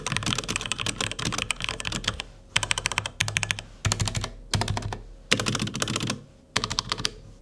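Fast typing on a HyperX Alloy Origins mechanical keyboard with linear red switches, rapid close clacking in bursts separated by short pauses, with no talk.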